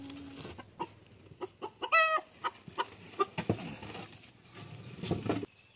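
Chickens clucking and squawking close by in irregular bursts, with a short crowing-like call partway through and rustling movement around them.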